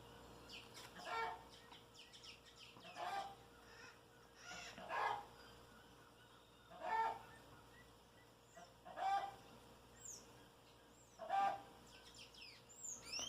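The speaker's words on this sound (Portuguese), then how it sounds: "pelo barulho da galinha. Não tem como, porque ela tá querendo botar, e aí ela gosta de fazer barulho." A hen ready to lay an egg clucks and cackles in regular bursts about every two seconds, faint and somewhat distant, with no one talking.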